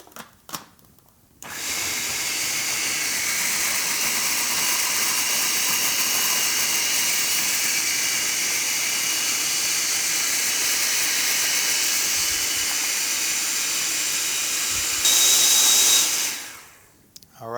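Blender running continuously for about fifteen seconds, puréeing green goddess salad dressing with olive oil, a loud steady whirring roar that starts abruptly, rises briefly near the end and then cuts off.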